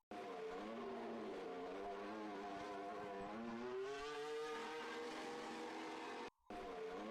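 Mercedes Formula 1 car driven by Russell leaving the pit lane at Silverstone, its loud engine note rising steadily through the gears for several seconds, then a brief cut before it resumes.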